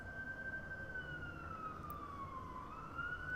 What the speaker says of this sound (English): There's always sirens going off in the background of your place.